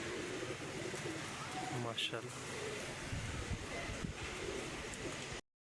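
A teddy pigeon coos softly in a pigeon keeper's loft, a faint low call under a man's speech and background noise.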